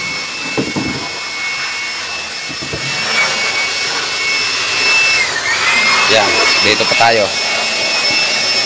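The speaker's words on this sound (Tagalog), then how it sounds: "Ginamitan ng blower." A handheld air blower runs with a high, steady whine and hiss while a speaker box is being built, loud and close, with someone talking over it at the start and again near the end.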